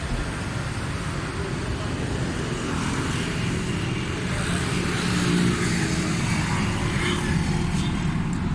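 A Suzuki Alto 1000cc car engine runs steadily up close, a constant low rumble with a faint hum above it and no break.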